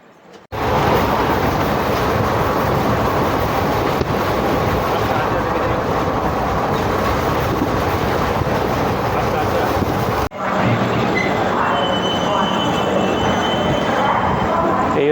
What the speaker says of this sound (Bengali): ছেড়ে দিল আমাদের ট্রেন।